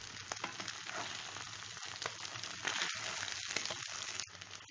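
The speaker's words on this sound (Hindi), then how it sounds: "देख सकते हैं आप कितने अच्छे से फ्राई हो रहा है।" Mutton brain masala fries in a pan, a steady, close, hissing sizzle that runs the whole time with a few soft stirring knocks and no talking.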